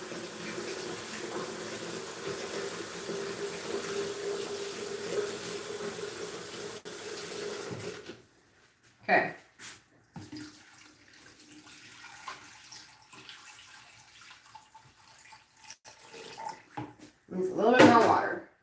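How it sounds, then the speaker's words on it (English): Water running steadily into an Instant Pot or slow cooker around a glass jar for several seconds, a continuous pouring rush that stops abruptly, followed by quieter handling clatter and a brief voice. "we're going to fill up our Instant Pot or slow cooker until the water reaches the halfway point on our jar"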